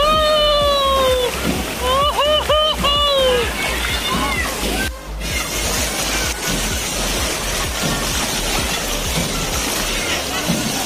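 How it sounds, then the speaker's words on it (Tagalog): Water sloshes and splashes continuously in the San Quintin wave pool in Pangasinan as waves roll through, loud and close, with excited voices and shouts mixed over the churning surf. "Wave pool ng San Quintin."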